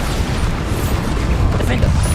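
Bombarda explosion spell in the video game Hogwarts Legacy: dense, rumbling blasts fill the short stretch continuously and loudly, while a voice talks over the din.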